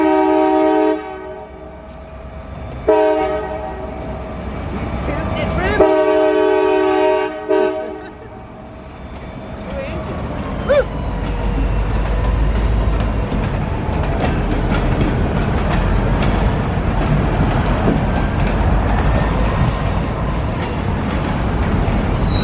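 A train sounds several long horn blasts near the tracks at an intersection, loud and close, then rumbles past with a steady roar of wheels and cars and faint squealing that lasts to the end.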